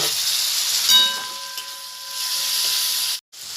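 Chopped tomato dropped into bitter gourd frying in a little oil raises a loud, steady steamy hiss that runs close and continuous, then cuts out briefly near the end before resuming.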